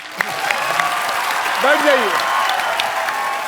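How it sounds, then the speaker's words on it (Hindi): Studio audience applause on a comedy talk show, with a broad steady clapping wash under a voice speaking over it. "तालियां।"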